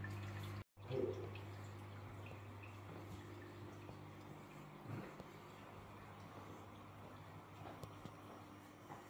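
Quiet, steady trickle of water draining from a 1000-litre aquarium through a Fluval FX6 canister filter into an indoor drain, with occasional drips and a low hum, fairly faint and continuous.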